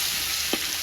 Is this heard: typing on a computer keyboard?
no